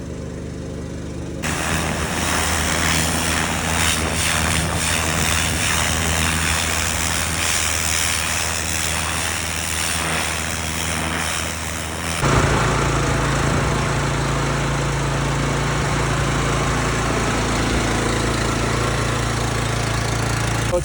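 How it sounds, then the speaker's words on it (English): A gas-powered pressure washer engine runs with the choke on, a loud, steady droning motor heard up close for about twenty seconds, shifting to a deeper, rougher tone partway through. "we let it run for a bit until it starts to, you hear the engine start to die"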